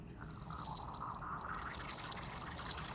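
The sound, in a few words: flushing a Cummins fuel injector nozzle with liquid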